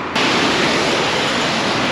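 Fast-flowing river water near Mattupetty Dam in Munnar rushes as a loud, steady broadband roar, close and unbroken after a brief quieter start.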